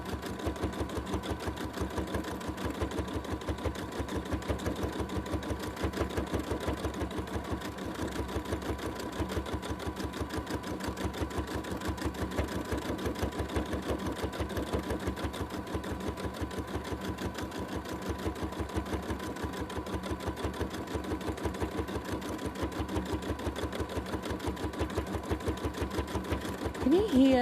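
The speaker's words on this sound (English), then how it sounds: "Can you hear that tip tip tip tip tip tip tip tip tip noise the machine makes?" A sewing machine doing free motion quilting runs at a steady fast rhythmic tapping, close and continuous for the whole stretch, with a soft voice faintly underneath.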